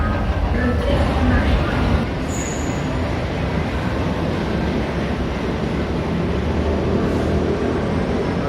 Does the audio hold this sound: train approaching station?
yes